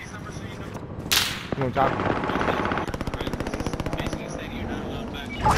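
Gunfire in a shooter video game: a sharp crack, then a long rapid automatic burst of evenly spaced shots, loud and close, with a voice speaking briefly over it.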